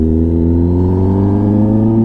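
Kawasaki ZX-10R superbike with an SC Project exhaust accelerating hard on a road, a loud, close engine note rising steadily in pitch as it pulls through the revs.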